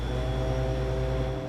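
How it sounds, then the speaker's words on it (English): The refrigeration condenser inside a Harvest Right freeze dryer runs with a steady, close mechanical hum and whir. Strong low tonal drone with no speech. "it's not the pump, it's the refrigeration condenser inside the freeze dryer."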